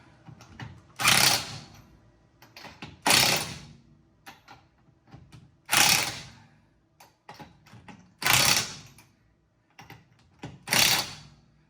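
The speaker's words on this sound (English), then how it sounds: "These impact wrenches can deliver in 3-4 hits like that about 100 to 120 foot-pounds or pound-feet of torque." Impact wrench tightening a control arm bolt on a 1973 Ford Mustang, heard as five short bursts of rapid hammering spaced a few seconds apart, loud and close with small clicks between.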